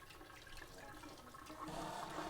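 A lemon zester is rinsed under a running kitchen tap, giving a steady rushing stream of water that grows slightly fuller toward the end, close and moderately quiet, with no talking.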